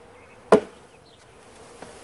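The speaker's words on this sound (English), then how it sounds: "you shake them all out of this box. And you see all the thousands of bees just falling out" Thousands of bees are shaken out of a box into a hive during an urban hive installation, giving one sudden thump and rush of falling insects, then a low steady buzz and a faint second knock near the end.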